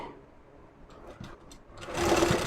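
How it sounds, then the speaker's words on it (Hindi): A sewing machine stitches a folded fabric edge on a net kurti, a short whirring run that starts softly and becomes louder and denser near the end. "तो हम इन दोनों पर इस प्रकार से एक सिलाई लगाएंगे"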